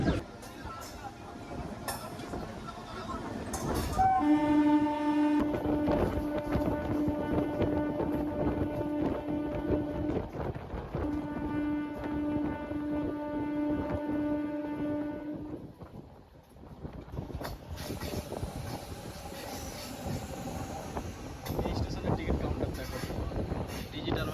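The 68106 Bankura–Masagram MEMU passenger train rumbles along steadily with wind buffeting, and a long sustained horn tone sounds for several seconds midway.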